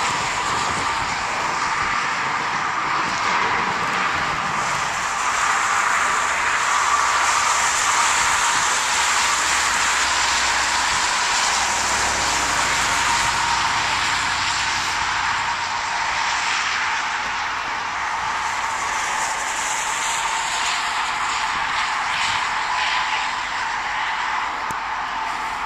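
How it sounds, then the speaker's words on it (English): A snow plow drives along a wintry street, its broad rumbling roar and scraping noise loud and steady throughout, heard from the roadside nearby. "Oh no, there's a plow."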